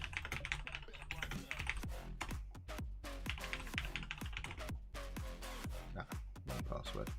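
Rapid keystrokes on a computer keyboard as a password is typed, a steady run of close, crisp clicks with brief pauses between bursts, no speech.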